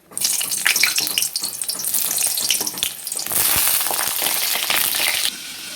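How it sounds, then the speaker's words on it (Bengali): Loud, steady sizzling and crackling of pointed gourds frying in hot oil in a wok, with a continuous hiss that intensifies partway through. "কড়াইয়ের তেল গরম হয়ে গেছে এবার আমি পটলগুলো ছেড়ে দেবো"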